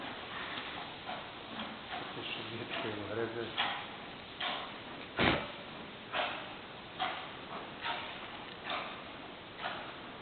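A rhinoceros in a winter zoo enclosure chews and snaps thick tree branches about a thumb's width, producing a steady series of sharp cracking crunches roughly every second, with one louder snap midway and a brief voice in the background.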